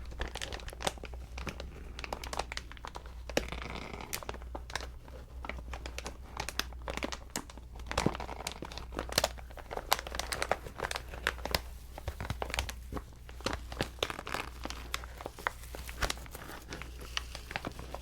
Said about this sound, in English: Crinkling the craft paper, right?